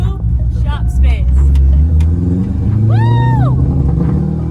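A Chevrolet Corvette with an LS1 V8 drives at close range, its engine holding a loud, steady low rumble throughout, with a brief rising-and-falling whine partway through and some high chatter early on.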